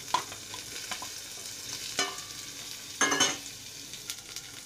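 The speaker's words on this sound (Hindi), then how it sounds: "मटर और सोयाबीन डाल के भून लेंगे।" Onion, soybeans and peas fry in a pan while being stirred, with a low steady sizzle broken by a few sharp scraping stir strokes close by. No one speaks.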